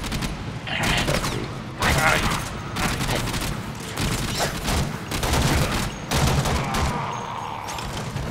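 Rapid bursts of gunfire rattle through a Warframe game battle, dense and loud, with repeated volleys and booms filling the scene and a voice talking at times.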